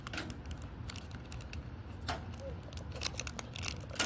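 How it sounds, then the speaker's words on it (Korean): A Dubai chocolate bar is snapped in half inside its plastic wrap, making close, quiet crinkling and crackling with scattered sharp clicks and snaps over several seconds, with faint talk in the background. "여기 이제 이거를 한번 반으로 비닐에서 반으로 쪼개볼게요"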